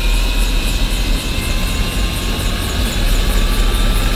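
Helicopter engine number 2 spooling up to full power, a loud, close, continuous turbine roar and whine with a steady rotor throb, no talk over it.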